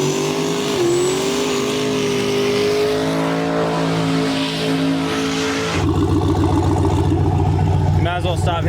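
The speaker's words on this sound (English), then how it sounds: "Hopefully she floors a little bit more and shifts it on time, and it should be a drastic change in time." A Nissan drag car launches at a no-prep drag strip, its engine roaring loudly and climbing in pitch, then shifting into a harsher, pulsing higher gear, with crowd and voices faintly underneath.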